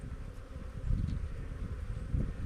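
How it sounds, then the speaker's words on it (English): Honeybees hum in an open hive with frames pulled, packed with this year's young bees; a low, steady droning buzz, close and quiet, with no talk. "there's walls and walls and walls of bees here"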